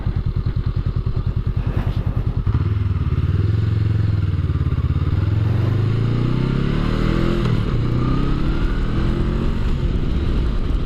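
A motorcycle out on a warm test ride, its engine loud and close, chugging at idle and then pulling away with a steady roar that climbs and drops through gear changes.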